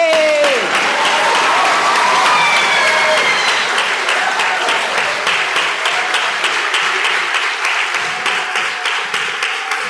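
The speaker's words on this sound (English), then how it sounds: "Let's give a hand clap." An audience claps at the close of a keynote talk, with loud sustained applause that gradually thins and fades, plus a brief shout near the start.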